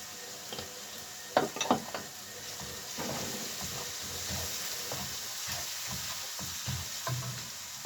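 Crispy chicken pieces sizzle and fry in a pan while being stirred, with a steady hiss broken by scraping clatters of the utensil.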